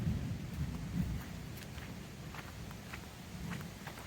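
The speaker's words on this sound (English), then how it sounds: "I don't know if you can hear the thunder rolling, but we have a storm moving in." A low, rolling rumble of thunder as a storm moves in over a farm, steady and distant, with faint light ticks and scuffs scattered across it.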